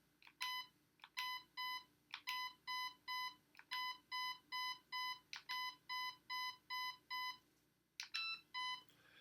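A Lancer Airtac AEG airsoft gun gives a rapid train of short, bright electronic beeps while its trigger is being programmed, about fifteen evenly spaced chirps in steady rhythm, close and fairly quiet over a faint background hum.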